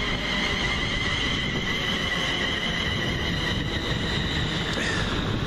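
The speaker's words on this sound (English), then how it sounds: "1637 London Midland service from Birmingham New Street and Northampton through to London Euston" A London Midland passenger train from Birmingham New Street and Northampton to London Euston passes Wolverton with a loud, continuous rumble of wheels on rail and faint high squeal tones, close and unbroken.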